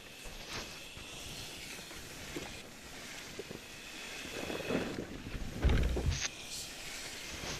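A sailing ship moving through water in a video game: soft wind and sloshing waves against the hull, a low steady wash with occasional creaks and louder splashes swelling toward the end.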